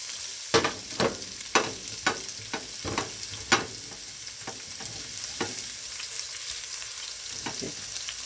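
Peppers sizzle in a pan for Bicol express, with a series of sharp stirring scrapes and clacks over a steady frying hiss, the strokes coming in a quick irregular rhythm before thinning out.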